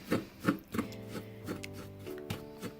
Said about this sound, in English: So I'm just gonna continue mixing this. So far it's looking like wet sand.